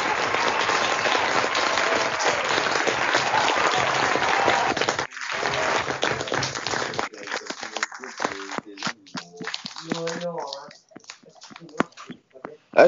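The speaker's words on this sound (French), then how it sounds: "Puis-je mettre des applaudissements, monsieur? Allez, qu'on m'applaudisse" Applause sound effect from a crowd clapping loudly and densely for several seconds, then thinning into scattered claps and fading out.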